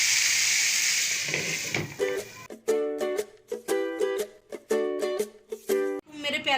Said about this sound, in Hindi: अब बघार लगा दूँगी कड़ी में।